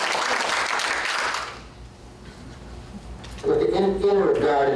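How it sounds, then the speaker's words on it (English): Applause from the audience at a county board of supervisors meeting, a dense patter of clapping that fades out, followed by someone speaking into a microphone. "I'd ask that everybody refrain from applause as speakers tend to speak"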